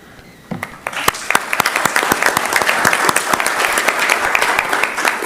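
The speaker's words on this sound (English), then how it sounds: "thank you and applaud you" At a state transportation commission meeting, a few scattered claps quickly swell into steady, dense applause from the attendees, filling the room and holding strong to the end.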